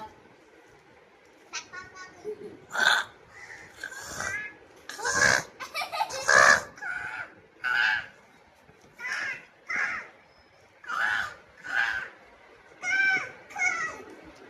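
A crow caws repeatedly outdoors, about a dozen harsh, fairly close calls spaced at a loose, regular rhythm over quiet background.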